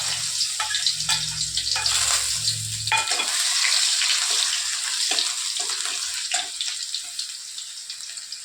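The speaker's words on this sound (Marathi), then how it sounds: "तेल गरम व्हायला ठेवलं मी त्यात टाकत आहे लसूण" Garlic fries in hot oil for a simple home vegetable dish, a constant bright sizzle that starts with a low clatter from the pan and then settles into steady hissing with small pops.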